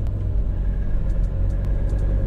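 Car traffic jammed inside a road tunnel, a heavy continuous low rumble of idling and creeping engines echoing in the enclosed space, loud and steady with no talk.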